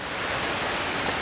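Rain falls outside in a steady, fairly loud broadband wash with no other sounds rising above it.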